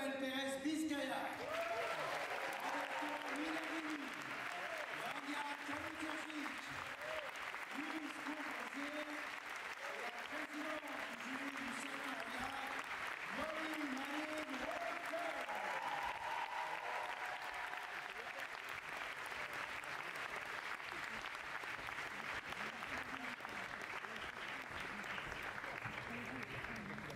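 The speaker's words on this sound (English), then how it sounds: "Merci d'applaudir, d'accueillir Noël Pérez Biscaya." Sustained audience applause fills the hall as the Un Certain Regard jury is welcomed onstage at the Cannes 2025 closing ceremony, a long, even roar of many hands, with a voice and music-like tones heard under it early on.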